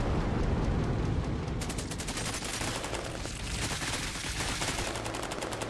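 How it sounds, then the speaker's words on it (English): Airstrike blasts and gunfire in the Cepheus Protocol strategy game, a dense, loud barrage of rapid crackling shots and booming explosions that continues without pause and without talk throughout. "And then I think we'll do an airstrike like that."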